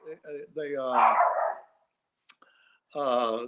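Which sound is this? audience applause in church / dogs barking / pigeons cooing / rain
dogs barking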